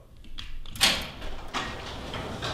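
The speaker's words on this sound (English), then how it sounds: "There goes the door." A LiftMaster 8500W wall-mounted high-lift garage door opener drives a garage door up toward the ceiling, giving a steady broadband rolling rumble with a louder clatter near the start and no talking.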